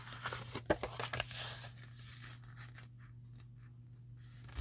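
Paper folded into an eighth-of-a-pie wedge, a few close crinkles and sharp creasing snaps early on, then quieter rustling that fades to near stillness under a low steady hum.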